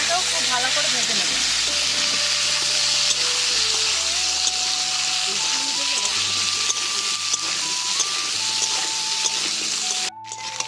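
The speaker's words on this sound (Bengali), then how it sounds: "ওলকপি আর আলুটাকেও খুব ভালো করে ভেজে নেব।" Kohlrabi and potato pieces frying in a pan sizzle steadily and loudly throughout, with soft stirring, while sustained background music tones play underneath.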